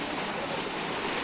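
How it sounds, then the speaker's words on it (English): Heavy rain falls hard and steady, a dense unbroken hiss of water with no other sounds on top. "the rain is actually hitting hard"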